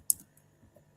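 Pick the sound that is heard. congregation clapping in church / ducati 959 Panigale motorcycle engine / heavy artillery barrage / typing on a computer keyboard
typing on a computer keyboard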